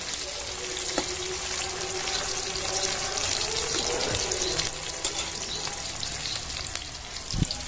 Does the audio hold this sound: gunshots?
no